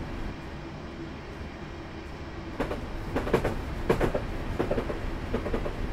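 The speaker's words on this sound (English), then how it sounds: "Another train passing left." A train rumbles past in the Train Simulator video game on the UK route from Faversham to Rochester, a steady rolling roar with rhythmic clickety-clack wheel beats growing denser and louder toward the end.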